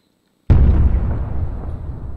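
A single sudden, loud atomic bomb explosion from the video game WorldBox bursts in after a moment of silence, then a deep rumbling roar that slowly decays over about two seconds, with no talking.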